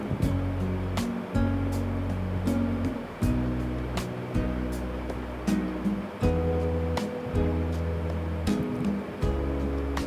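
Raw beef is rinsed in water while cooking for Eid beef curry, giving steady splashing and sloshing in repeated surges separated by short pauses, with no talking.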